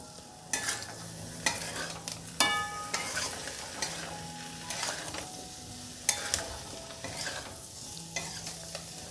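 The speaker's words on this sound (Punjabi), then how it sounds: "ਧਨੀਆ ਪਾ ਕੇ ਵੀ ਚੰਗੀ ਤਰ੍ਹਾਂ ਮਿਕਸ ਕਰ ਲਵਾਂਗੇ ਆਪਾਂ" A utensil scrapes and stirs spiced cumin potatoes with coriander in a pan, repeated sharp scraping strokes over a soft sizzle, fairly close and fairly quiet.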